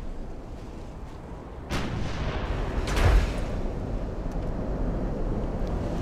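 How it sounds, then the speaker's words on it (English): 11-inch naval guns fire in a naval warship battle video game, heard as deep booming blasts at about two and three seconds over a steady low rumble of sea and engine noise. "while the 11-inch guns are firing from right behind you"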